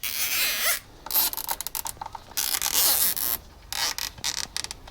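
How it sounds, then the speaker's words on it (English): Cable ties ratchet tight around a pipe on a classic Mini, loud close zipping bursts separated by short pauses, some rapid clicking pulls and some longer continuous rasps. "Use a cable tie to secure the pipe."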